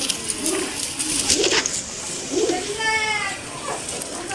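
Pigeons coo in a backyard loft of Jira-neck birds, their low rolling calls repeating every second or so at close range over steady background noise.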